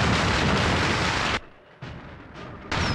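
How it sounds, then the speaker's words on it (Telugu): Firecrackers and bombs going off in a film climax, a dense loud roar of blasts that cuts out abruptly, returns in short bursts, then resumes at full force. "ఇక్కడ రకరకాల టపాకాయలు బాంబులు పేలుతున్న చప్పుడు వింటున్నావా?"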